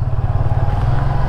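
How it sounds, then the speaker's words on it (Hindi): Motorcycle engine idling just after starting, a steady close low throb with a pulsing rhythm, alone without talk. "अभी बस बाइक स्टार्ट कर रहे हैं और निकल रहे हैं हम लोग कोलकाता"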